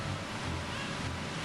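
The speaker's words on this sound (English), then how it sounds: "The flow of this waterfall serves the King of Hyrule." A waterfall in the video game Zelda Ocarina of Time rushes as a steady broadband roar, loud and continuous with no talking.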